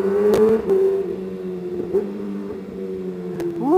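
Kawasaki ZX-636R (2019) engine revving up through the gears, its steady tone broken by several abrupt quickshifter cuts and rising again at the end, close and loud.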